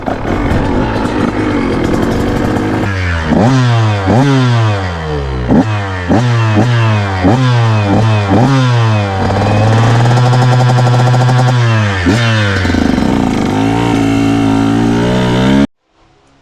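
A KTM 125 two-stroke dirt bike engine, a 2023 125 XC/SX during a heat cycle, revs up and down repeatedly in sharp bursts, then holds a sustained rev before easing off and cutting out.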